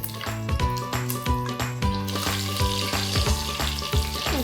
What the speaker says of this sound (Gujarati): હવે આપણે એમાં પહેલાં મરચાં થોડા ફ્રાય કરી લઈએ